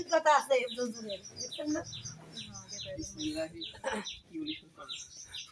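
Released birds chirp during a wedding bathing ceremony, their quick, repeated high tweets running steadily through the whole stretch while people talk loudly close by.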